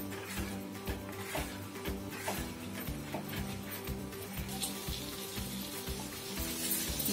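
Masala for paneer butter masala frying in a pan while being stirred, a steady close sizzle with rhythmic scraping and clicking, no talk.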